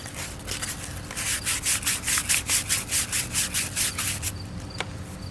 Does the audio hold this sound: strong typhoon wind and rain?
no